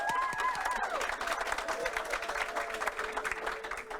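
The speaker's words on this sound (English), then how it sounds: "let's give them a round of applause" Applause from a high school audience at a National Signing Day ceremony for two basketball signees, steady and moderately distant, with some tonal sounds and crowd murmur mixed in throughout.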